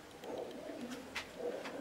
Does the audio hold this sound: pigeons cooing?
yes